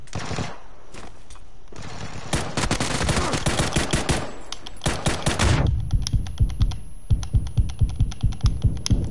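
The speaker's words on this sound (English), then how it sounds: "There's some people shooting over here." Rapid automatic gunfire in a PS4 shooter video game rattles in long loud bursts, then gives way to steadier spaced shots, close and dense with no talk.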